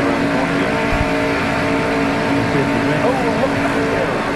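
A 1994 NASCAR Winston Cup stock car sweeps through a corner at high speed during the Winston Select 500, a steady broad engine roar heard beneath continuous talk.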